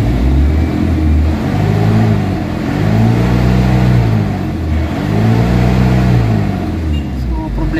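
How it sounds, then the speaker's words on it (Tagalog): An Isuzu Crosswind engine with a low-power fault revs up and settles in two or three rising and falling swells, a loud, close mid-toned drone with a rough, loose undertone throughout. "So i-RPM natin, pakiramdaman natin kung saan yung kanyang ang RPM na malakas."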